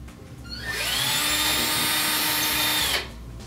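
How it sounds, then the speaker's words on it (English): A power drill bores a pilot hole into a wooden wall stud, its whine rising quickly to a steady, close, high pitch for about two seconds before spinning down. "And drill that one as well."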